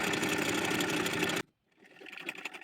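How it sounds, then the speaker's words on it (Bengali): A sewing machine runs in a fast, steady buzzing whir while stitching a narrow seam on a baby dress sleeve made of gauze cloth, then stops abruptly before fainter handling noises follow. "আরেকটি হাতাকেও চিকন করে সেলাই করে নিচ্ছি"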